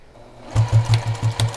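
A sewing machine stitches quilt binding with a steady, rapid thumping rhythm of needle strokes, starting after a quiet moment and running close and clear with no talk.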